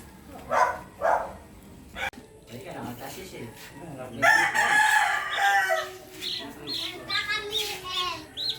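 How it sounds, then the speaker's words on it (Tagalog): Chicks and chickens on a backyard poultry farm, with loud crowing and clucking calls, a dog barking, and people talking nearby. "so, andito mga sisiw."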